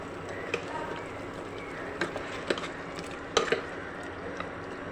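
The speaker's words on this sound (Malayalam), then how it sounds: "മല്ലിയില ഇട്ടിട്ട് നമുക്കിതൊന്ന് ഇളക്കി കൊടുക്കാം." Mutton curry, freshly topped with chopped African coriander leaves, is stirred in a pot, with soft scattered scrapes and light clinks of the spoon over a steady low background hiss.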